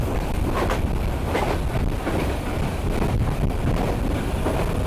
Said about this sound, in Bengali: এই যে আমাদের ট্রেন ছেড়ে দিচ্ছে ঠিক রাইট টাইমে